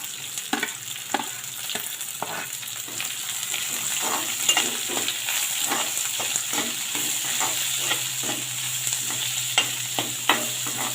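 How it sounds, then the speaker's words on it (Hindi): Onions sizzle and crackle steadily in hot oil, with occasional scraping stirs of a utensil against the pan, close and continuous. "अब मैं इसमें प्याज ऐड कर रही हूँ।"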